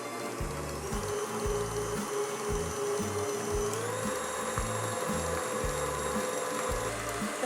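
An electric mixer creams butter and sugar for Greek kourambiethes almond cookies, running as a steady loud whir with a rhythmic low thumping as the beaters turn, its pitch stepping up slightly midway as the speed increases.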